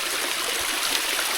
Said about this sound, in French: On a trouvé une belle cascade là.